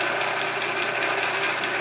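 An Atlas horizontal milling machine runs with a steady, loud mechanical whir and hum, an even drone that holds constant throughout with no voices.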